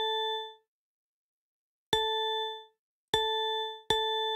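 Three synthesized bell notes at A4 in LMMS music software, each struck sharply with a bright, ringing tone that rings out and decays. The first rings alone, then two more follow in quick succession, with no talk.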